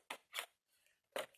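Scissors cutting paper card for a mushroom-themed card, three quiet, crisp snips close up with short pauses between them.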